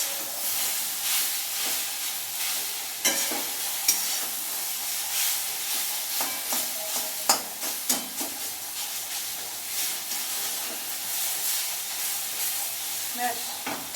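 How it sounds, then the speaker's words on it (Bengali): Punjabi okra and chickpea masala sizzling and frying in a pan, with steady bright hiss throughout and occasional scraping clicks of stirring, close and continuous without talk. "মাঝে মাঝে নেড়ে দিচ্ছি আর ভাজতে থাকছি।"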